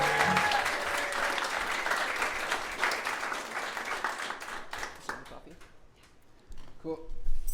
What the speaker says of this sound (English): how about a big round of applause for Kate joining the show here?